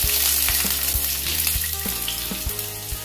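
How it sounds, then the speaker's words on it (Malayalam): Mustard seeds sizzle and crackle in hot oil for Kerala-style tomato rasam, giving a dense, steady frying hiss with small pops over a rhythmic tonal background. "എണ്ണ ചൂടായിട്ടുണ്ട്, ഇതിലേക്ക് 1 ടീസ്പൂൺ കടുക് ഇട്ട് കൊടുക്കാം."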